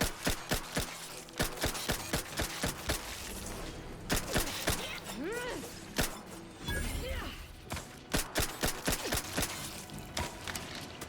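Rapid, punchy gunshots in The Outer Worlds 2, fired in quick irregular bursts with short pauses and mechanical clatter between volleys, moderately loud in a combat scene.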